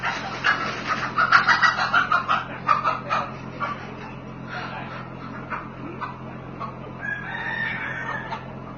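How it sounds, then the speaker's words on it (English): A chicken clucks and a rooster crows, with a series of loud, close, rhythmic calls early on that then fade into quieter clucking. A dog is also heard in the background. "The dog wants to play and the chicken is afraid."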